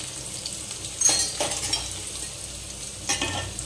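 Potatoes fry in a pan in a home kitchen, with a continuous sizzle broken by a couple of louder scraping stirs of the utensil against the pan, close and without talk.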